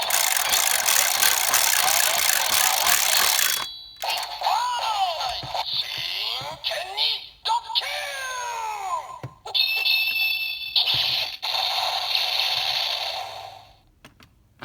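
Electronic sound effects from a DX Geardalinger toy sword: a loud burst of noise, then a series of synthetic sweeping tones, chimes and beeps with short gaps between them.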